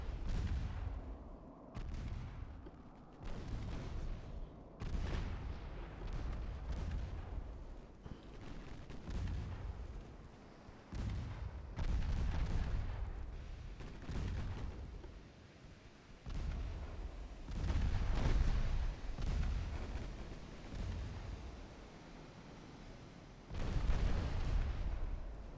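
Warship main guns firing in the naval game Ultimate Admiral Dreadnoughts: repeated heavy booms at irregular intervals, each a loud low-end blast with a rumbling tail, over continuous battle noise with no talk.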